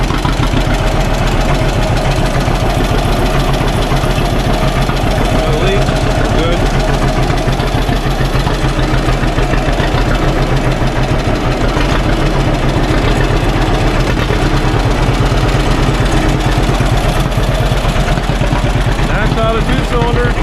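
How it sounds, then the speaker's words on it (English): A cold two-cylinder John Deere 50 tractor engine idles steadily and loudly up close, its low, even putt-putt rhythm running continuously throughout. "Two-cylinder John Deere 50 sound."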